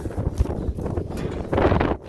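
Gusty wind blows outdoors on a farm ahead of a storm, rumbling against the microphone in uneven bursts with a stronger gust near the end, close and unaccompanied by talk.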